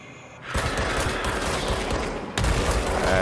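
Enemy NPCs firing in the video game Control: a dense, continuous burst of rapid gunfire that jumps in suddenly and then surges again, loud and sustained, with no talking.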